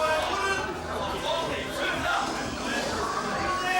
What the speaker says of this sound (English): So the SA crowd starts to lip up again